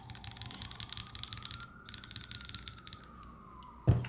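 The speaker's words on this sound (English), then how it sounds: "let the siren pass first" A siren wails from a distance, its tone slowly rising and falling, with faint keyboard-like clicks in the foreground and a sharp knock at the end.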